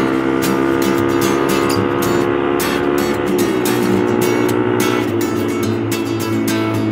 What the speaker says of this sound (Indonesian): Akselerasinya ya enak gini.